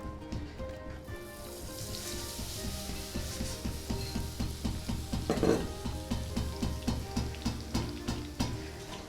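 Boondi batter for motichoor ladoo fries in hot ghee, a steady bubbling sizzle with a rhythmic scrape of stirring repeating about every half second, close and moderately loud.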